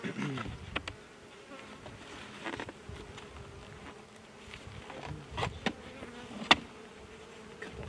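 Honey bees buzz around a hive close by in sunshine, their drones rising and fading as individual insects fly past, with scattered soft taps and rustles.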